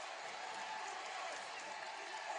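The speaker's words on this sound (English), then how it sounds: "This crowd is into it, Neil." A college basketball crowd at an Oakland home game cheers and applauds in a steady, broad wash of noise, moderately distant and sustained throughout without a clear break.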